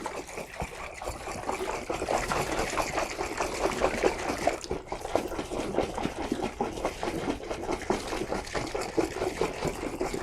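An apple mead mixture is shaken inside a capped jug, producing a continuous rapid sloshing and gurgling of liquid that keeps an even rhythm for about ten seconds, close up with no talking.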